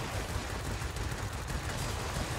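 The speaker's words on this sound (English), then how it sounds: "you see those cannons are brutal, just like the Tier 4" Cannons on an A6M2 fighter in the World of Warplanes game fire nonstop. The result is a dense, steady roar of rapid gunfire with no breaks, even in loudness, and fairly quiet.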